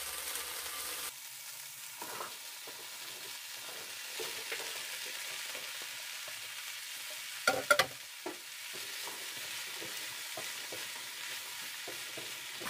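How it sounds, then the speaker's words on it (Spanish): Zucchini frying in a pan with poblano chile strips makes a soft, steady hiss, broken by light scrapes and a brief louder clatter of stirring about two-thirds through, with no speech. "Ahora vamos a agregar las calabacitas."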